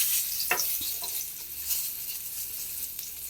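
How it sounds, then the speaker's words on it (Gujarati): Curry leaves sizzle in hot oil with asafoetida while tempering for kanda batata poha, a steady close hiss with a few sharper pops and crackles near the start, no talking. "હવે લીમડાનો વઘાર કરીશું."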